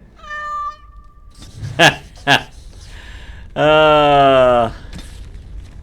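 Cat meowing in Dragon Age: Origins Awakening, a short high mew and later a longer, louder drawn-out meow, separated by a couple of brief sharp sounds.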